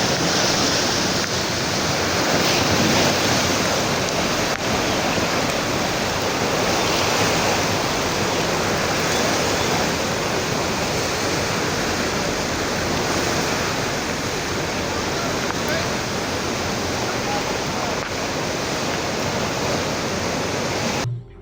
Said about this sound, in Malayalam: ജില്ലയിലെ പ്രധാന ഡാമുകളായ പീച്ചി, വാടാനി, പെരിങ്ങൽകുത്ത്, പൂമല, അസറൻകുണ്ട്, പത്താഴക്കുണ്ട് എന്നിവിടങ്ങളിൽ നിന്നും വെള്ളം പുറത്തേക്ക് ഒഴുക്കുന്നുണ്ട്